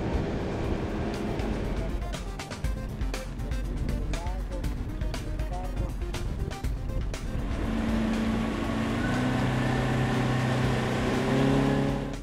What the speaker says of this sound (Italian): Tre gruppi da 10 imbarcazioni ciascuno lasciano con rapidità il porto di Bolsena per cercare di raggiungere velocemente gli hotspot grazie anche ai potenti motori fuori bordo